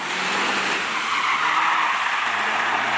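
A stock 2005 Mitsubishi Lancer Evolution VIII drifts through a narrow spot in first gear, its tires skidding in one continuous loud screech with engine roar underneath for the whole stretch.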